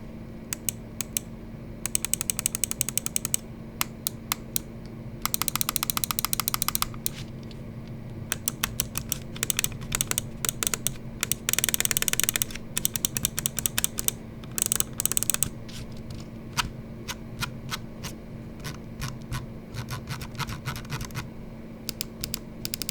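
Sharp gaming mouse button clicks, from an Unius Black Lotus carbon-chassis mouse, come in quick bursts and irregular runs over a faint steady hum, close and crisp with short pauses between clusters.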